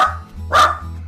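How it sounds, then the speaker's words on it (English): A pet dog, upset at being filmed, gives a short, loud bark burst over a low steady hum in a quiet room. "It's my dog getting upset that I'm recording."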